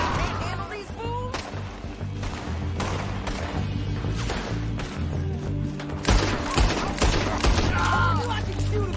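Repeated gunshots in a Western shootout in Red Dead Redemption 2, with sharp cracks spaced every second or so over dense rumbling background action and some brief voices.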